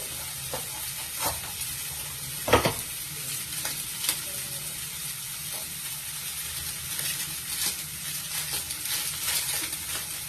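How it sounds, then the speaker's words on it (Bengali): Kashmiri chili powder stirred into spices sizzling in a pan, with a steady fry hiss, scraping stirs throughout and one sharper clatter early on. "অল্প একটু কাশ্মীরি লঙ্কার গুঁড়ো দিয়ে দিলাম, দিয়ে নাড়তে থাকছি"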